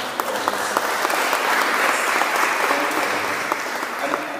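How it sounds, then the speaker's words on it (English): Church congregation applauding a speaker during a Sunday service, steady dense clapping from a crowd held at an even level for several seconds, without talk. "Let's give her a round of"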